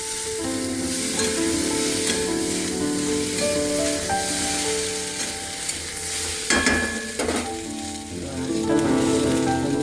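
Potatoes, tomato and spices sizzle in a hot pan, a steady frying hiss with stirring scrapes, under a sustained musical tone, with a brief burst of sharper spitting midway.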